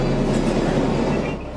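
Interior of the New York to Washington, D.C. passenger train: a continuous loud rumble and rolling rattle of the car in motion, steady throughout and easing slightly at the end, with no voices.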